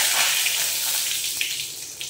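Bay leaves dropped into hot oil with whole cumin for tempering give a continuous hissing sizzle, fairly loud and close, with faint crackles on top.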